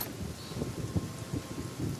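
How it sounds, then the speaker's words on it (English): Rain falls steadily in a dark outdoor scene in the video game Pillars of Eternity, a constant hiss with soft low rumbles pulsing beneath it. "It's dark, and it's raining"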